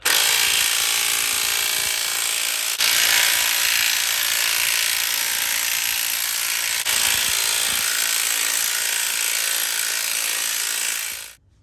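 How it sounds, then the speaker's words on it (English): Spring compressors being wound off a Holden Commodore front strut with a power tool, a loud continuous whirring rattle in two long bursts separated by a brief break, ending abruptly. "you can go ahead and remove the spring compressors"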